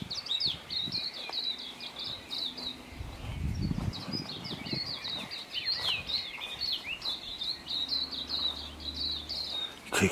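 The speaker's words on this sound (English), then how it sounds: "I thought we'd listen to some birds." Several birds sing and chirp continuously at sunrise in quick, high twittering phrases, with a low rumble and faint rustling underneath.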